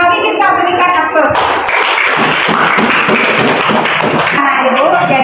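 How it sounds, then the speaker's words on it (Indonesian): Classroom applause from a group of students, a burst of rapid clapping and tapping that is loud and close, with children's voices mixed in. "Mari kita berikan aplaus"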